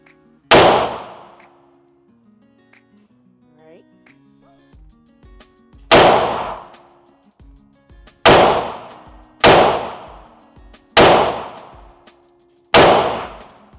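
Six sharp, loud gunshots from a Springfield Prodigy pistol ring out close by, the first alone and then five more after a pause at uneven intervals, each decaying quickly, with faint handling noise between.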